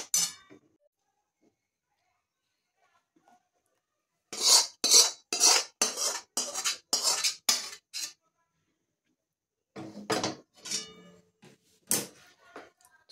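A spoon scrapes and clinks against a pot as hot jaggery syrup is mixed into roasted semolina, a dense run of rapid metallic scraping strokes after a quiet start, then a few sparser clinks near the end.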